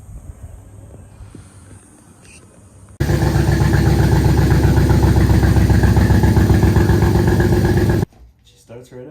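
A BMW E36 engine cranks and catches at once, jumping from quiet to a loud, steady running idle with a dense rhythmic mechanical pulse that holds for about five seconds before cutting off sharply.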